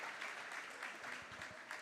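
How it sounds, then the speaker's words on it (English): A crowd at a high school volleyball match applauds in a steady wash of clapping as an injured player stands, with a few dull thumps near the end. "a round of applause"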